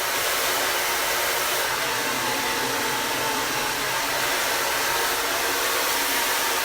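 A hair dryer blows continuously at close range during a round-brush blow-dry, a loud, even whooshing roar with no breaks.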